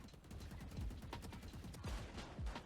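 Gunfire from a first-person shooter video game, a quick sequence of sharp shots with a few heavier bangs spaced through the burst, loud and close with no talking.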